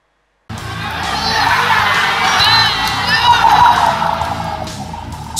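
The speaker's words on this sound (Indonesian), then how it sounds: "Sorak kegembiraan supporter memecah keheningan usai pemain Barito Putra, Benny Oktavianto, mencetak gol penyeimbang ke gawang Persib Bandung" Football supporters of Barito Putera cheering in a stadium in Banjarmasin after an equalising goal against Persib Bandung, a loud, sustained roar of crowd shouts and whoops that swells and stays dense from start to finish.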